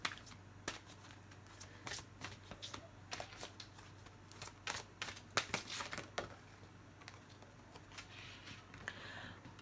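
Oracle cards are shuffled by hand in quick, soft, papery riffles and slaps, close and quiet, in irregular bursts.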